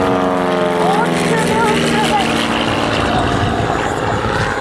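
A Beechcraft Bonanza propeller plane flies at an airshow at Tajima Airport, its steady engine and propeller drone loud and continuous throughout, with a commentator talking over it.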